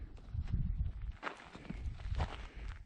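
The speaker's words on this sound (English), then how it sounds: "Oh, I hear footsteps." Several footsteps crunching on dirt and gravel nearby in rain, an uneven walking rhythm that slows briefly midway before continuing.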